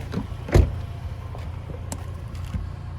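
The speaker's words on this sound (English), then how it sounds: "But first I'm gonna pop the gas cap just for those that are curious" A fuel filler door on a 2022 Lexus RX 450h pops open with one short, close thunk, followed by quiet ambient noise with a few faint clicks and no talking.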